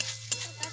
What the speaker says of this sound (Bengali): এই মাংসটা দিয়ে দিলাম মশলার মধ্যে, মাখা মাংসের সাথে মশলাটা মাখিয়ে